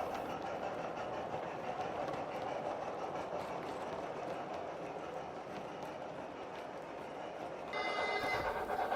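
A model steam locomotive, 5015 Kingswear Castle, runs past on a layout with a continuous rolling rumble and clatter, growing louder and brighter near the end as it draws close.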